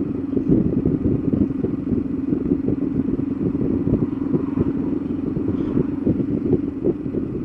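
A touring motorcycle rides along a forest road, its engine droning steadily and close with a rough, pulsing texture, plus faint wind and rattling, and no talk.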